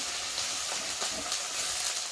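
Garlic and onion fry together in oil with an even, hissing sizzle, near and fairly loud, running unbroken for a couple of seconds with no talk.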